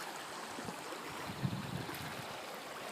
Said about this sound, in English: I'm in Oak Creek right now, not the city, but the actual creek.